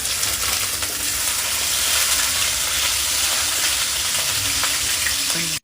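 Unpeeled ginger fries in hot cooking oil, giving a loud, continuous hiss and spatter that stays close and even throughout, with no voices.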